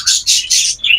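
Pet birds in a cage chirping, three or four bright, loud, close tweets in quick succession, with no voices.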